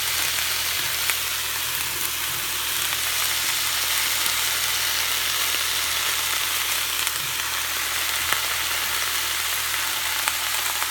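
Meat searing at the bottom of a pot for a home pot roast, a steady close hiss and crackle that runs unbroken for the whole stretch with no voices over it.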